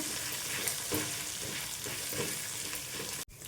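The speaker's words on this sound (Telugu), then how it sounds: "ఇందులో కొద్దిగా కరివేపాకు, కలుపుకుంటూ ఫ్రై చేసుకోవాలండి" Curry leaves fry in a pan while being stirred, a dense, steady sizzle with soft scraping strokes throughout, cut by a brief dropout near the end.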